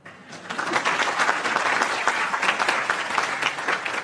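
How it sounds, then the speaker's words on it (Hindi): Audience applause at a talk on the fear of death: a crowd clapping together, rising quickly and holding a dense, even patter, fairly close, with a faint voice or two beneath. "बजाओ ताली।"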